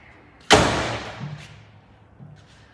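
A single solid thud of a door slamming shut, close by, followed by a fading rumble and a faint knock in an otherwise quiet space.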